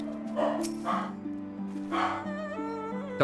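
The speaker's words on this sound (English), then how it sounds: "Dogs in the background." Small corgi-type dogs bark and yip in the background of Final Fantasy XIV, with several short, bright yaps over the game's music.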